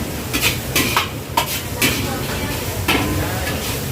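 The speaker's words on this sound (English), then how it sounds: "The stir frying skills." A chef stir-frying pad see ew in a wok at a Bangkok mall food stall, with steady sizzling and repeated clanks and scrapes of a metal utensil against the pan, close and busy throughout.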